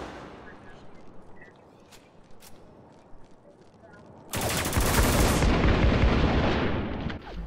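A percussion grenade from the video game Spec Ops: The Line goes off with a sudden loud blast partway through, followed by a sustained roaring burst. Lighter gunfire and game noise come before it, and a player reacts just before.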